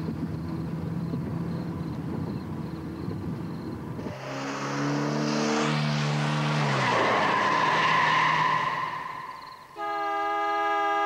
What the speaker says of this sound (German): Wir rasten die Fireplace Road runter und da kam der Wagen von der Straße.